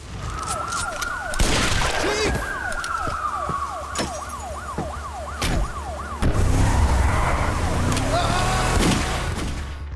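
A wailing police siren sweeps up and down loudly in a Team Fortress 2 film scene, with sharp bangs, engine roar and a brief tire screech, plus a voice partway through.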